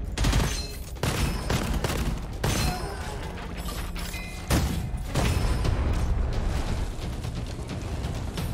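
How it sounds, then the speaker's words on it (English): Heavy, continuous gunfire in the roguelite shooter Gunfire Reborn, loud rapid bursts with punchy blasts every second or so, dense and close throughout with no speech. "Just shooting some people."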